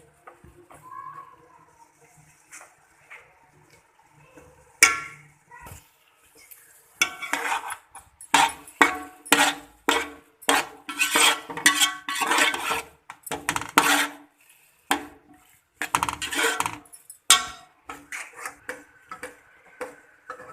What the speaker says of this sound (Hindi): अब इसकी बुनाई होगी